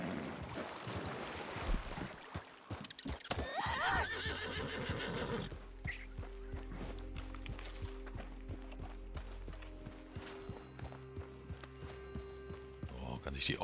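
A horse in Red Dead Redemption 2 neighs loudly near the start, and then hooves clop steadily against game ambience that includes water. Someone talks over part of it.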